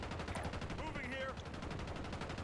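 Rapid, steady automatic fire from an LC-10 submachine gun in the video game Call of Duty Warzone, a continuous rattling burst lasting a couple of seconds, loud and close, with a voice faintly underneath.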